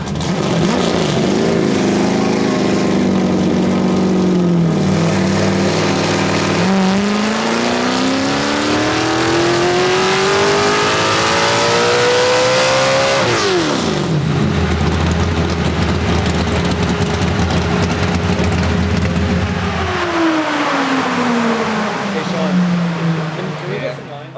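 A big block drift car engine revs hard and continuously, sweeping up and down through throttle blips and sustained high revs with a deep chunky tone, loud and close, while people talk.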